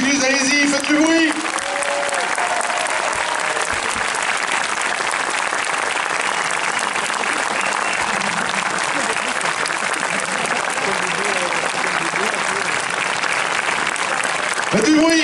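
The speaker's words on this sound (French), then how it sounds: "je vous demande un tonnerre d'applaudissements pour Monsieur Danny Boone et Monsieur Guy Lécluse" A film premiere audience in Evreux gives a loud, sustained applause for Dany Boon and Guy Lecluse, dense clapping lasting the whole stretch, with a voice speaking briefly over it at the start.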